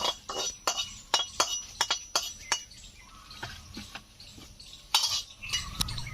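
A metal utensil scrapes and clinks against a wok in irregular strokes, with sharp taps and rattles of three or four dry red chillies being stirred.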